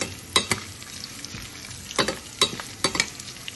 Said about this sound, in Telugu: 1 కప్పు జీడిపప్పు, 10 ఎండుమిర్చి చీలికలు వేసి ఫ్రై చేసుకోవాలి